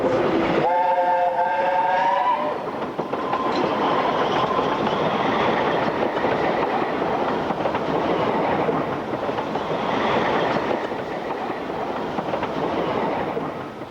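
Steam locomotive David Lloyd George sweeping past on the Ffestiniog Railway main line, a loud, steady roar of running train with a whistle-like tone near the start, continuous and close throughout.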